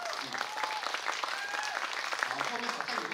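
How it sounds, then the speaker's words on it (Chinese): Audience applauding an Indigenous choir at an evening concert, a dense burst of clapping that holds steady for a few seconds, with voices audible amid the clapping. "我们给他们一个最热烈的掌声"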